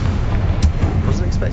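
A Confringo blasting spell explodes in the Hogwarts Legacy video game: a sharp burst rises out of a dense, steady low rumble, with a voice talking over the scene.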